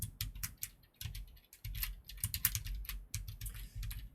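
Keys clatter on a computer keyboard during Unity coding, in quick irregular bursts of close, crisp keystrokes with brief pauses between runs and no voices.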